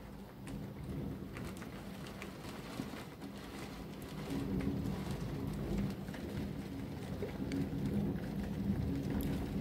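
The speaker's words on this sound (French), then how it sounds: "c'est le plus gros orage de l'été" A heavy summer thunderstorm on a morning with gusty wind and torrential rain, steady dense rainfall drumming on surfaces throughout, with low rumbling underneath and no voices.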